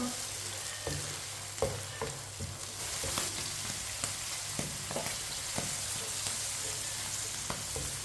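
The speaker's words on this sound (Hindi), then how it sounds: "ऐसे ही चम्मच चलाते हुए पकाना है मटर को।" Peas fry in a pan with a constant soft sizzle while a spoon stirs them, giving scattered clinks and scrapes against the metal.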